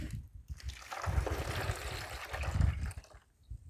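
Fermented plant juice mixture is poured into a Kratky lettuce container, a soft close trickle and splash that lasts a few seconds and fades out. No talking.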